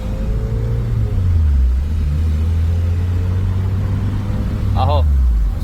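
A car with a K20 Type R engine revving in first gear: a loud, close, low engine drone whose pitch drops and then holds steady, with a brief chirp near the end.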